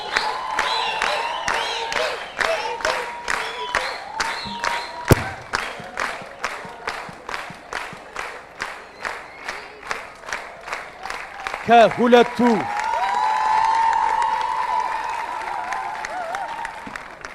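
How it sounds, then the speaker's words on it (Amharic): Audience at a student quiz competition claps warmly for returning contestants, a long rhythmic burst of applause with crowd noise; a host speaks under it and cheers swell near the end. "ባካችሁ ሞቅ ያለ ጭብጨባ አድርጉላቸው።"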